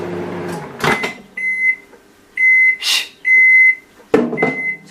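Kitchen appliance beeping during candle making: several bright electronic beeps in short bursts, loud and close, with clatter and handling noises between them.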